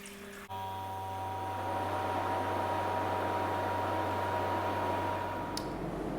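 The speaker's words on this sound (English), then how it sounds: "Now that we have finished filling the machine" Water pours steadily into a Bunn Ultra 2 slushie machine, a broad continuous rushing close by with a low motor hum underneath, alone without talk.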